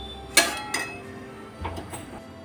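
A pan of potato stuffing lifted off a gas stove gives three sharp metallic clanks and clinks, spaced apart, close and fairly quiet, with no talking.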